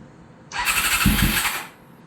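A Honda CBR600 motorcycle engine on full choke, cold, cranks over for about a second with a whirring starter and a low sputter, then cuts off without catching.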